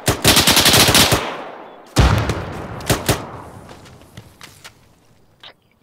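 Arma 3 military-simulation combat: a long burst of loud automatic machine-gun fire, then a second heavy volley, followed by scattered single shots that fade with echo into the distance.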